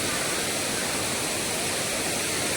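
Savdav waterfall in the Konkan region pours with a dense, unbroken roar of falling water, loud and close throughout, with no voices above it.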